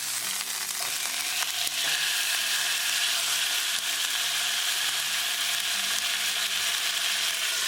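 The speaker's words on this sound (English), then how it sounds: "And we're going to flip it over." Chicken breast pan-frying over medium gas just after being flipped, a loud, continuous close-up sizzle with a dense crackle that holds steady throughout.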